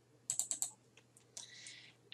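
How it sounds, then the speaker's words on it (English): A computer mouse double-clicks to open a folder: a quick run of sharp, crisp clicks close to the microphone in a quiet room, followed by a few fainter clicks and a brief rustle. "you do that by double clicking on it"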